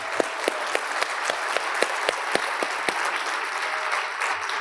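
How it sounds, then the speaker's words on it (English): A conference audience gives a round of applause, steady dense clapping with a few sharp individual claps standing out, close and sustained throughout. "Let's give Jeff a round of applause."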